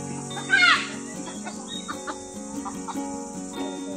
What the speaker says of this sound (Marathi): कोंबड्या ना?